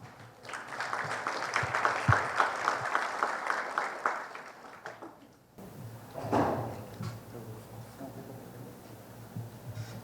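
A crowd at a legal seminar applauds to welcome an official speaker. Steady clapping lasts about five seconds, then gives way to a quieter room with shuffling and a brief knock.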